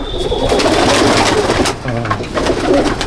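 Arshad-line pigeons coo in a loft in Jangipur, Murshidabad, a steady low burbling that is loud and close and fills the whole stretch, with several birds overlapping.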